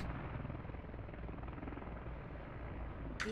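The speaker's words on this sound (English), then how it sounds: "attack helicopter is going up" Attack helicopter in the SATCOM strategy game, its steady rotor throb loud and continuous throughout with no talk, ending in a brief sharp sweep at the close.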